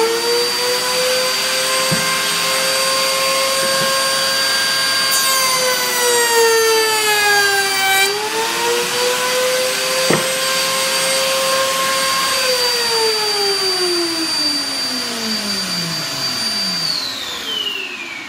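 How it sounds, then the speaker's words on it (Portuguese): A shop vacuum runs loud and steady for dust extraction on an adapted Makita bench router, its whining tone sliding down and up as the motor changes speed, then dropping away at the end. "Então vou acionar o aspirador e depois a tupi."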